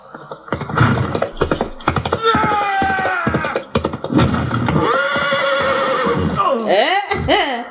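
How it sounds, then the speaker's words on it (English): Horses carrying jousting knights into a duel whinny loudly, with shrill rising and falling neighs toward the end over steady rhythmic thumping and a voice talking throughout. "both knights ride in on their majestic horses"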